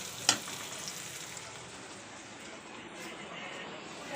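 Onions frying in a pan, a steady low sizzle with a brief sharp clatter near the start, then an even crackle running throughout.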